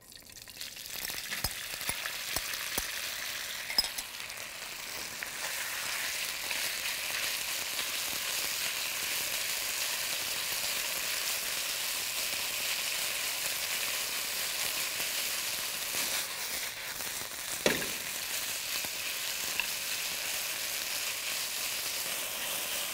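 Marinated beef frying in hot neutral oil for beef and broccoli, a steady loud sizzle that runs the whole time with a few faint clinks and stirs, no talking.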